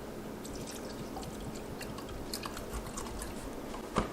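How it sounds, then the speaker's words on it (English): Water pours steadily into the reservoir of a closed plant terrarium, a continuous trickling with small drips and splashes, close up and with no talk. "Now we need to fill up the reservoir, which is down here."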